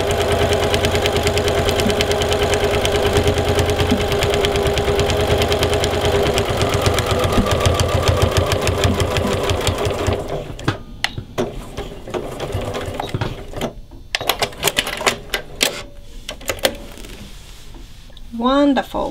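A sewing machine runs steadily, stitching across mitered quilt binding, its continuous mechanical whir filling the first ten seconds before breaking into short stop-start bursts as the fabric is turned.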